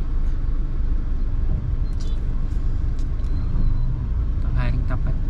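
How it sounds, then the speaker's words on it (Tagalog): Dense road traffic on a busy African street near a market, with a steady low rumble of cars and buses and occasional squeaks and brake hisses, while a person talks over it. "It's quite traffic."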